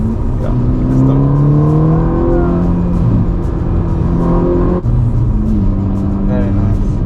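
A Ferrari Roma's engine pulls hard from inside the cabin, its tone climbing through rising sweeps with a brief break at a gear change, while people talk over the loud steady drone.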